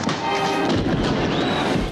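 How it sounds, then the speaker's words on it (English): Fireworks exploding in a 1974 gangster film scene, a dense volley of loud crackling bursts and thumps over a short stretch, close and forceful, with faint whistling streaks. "And he did use the fireworks."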